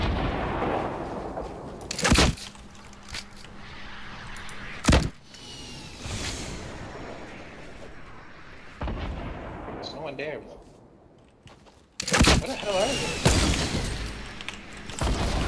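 Sharp, loud hunting rifle shots in Fortnite ring out at irregular intervals, roughly four or five reports spread across the stretch, with players chatting and reacting in between.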